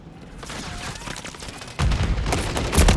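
Rapid gunfire from a shooter video game starts faintly, then turns into a loud, dense burst of shots partway through.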